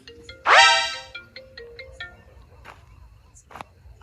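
A phone rings with a loud, bright melodic ringtone burst lasting about half a second near the start, followed by quieter scattered sounds and low background hum in a Gujarati comedy scene.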